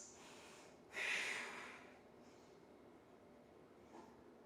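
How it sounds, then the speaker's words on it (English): One deep breath during yoga practice: a faint, close, breathy rush through the throat that swells near the start, then fades into a quiet room. "Nice deep ujjayi breaths"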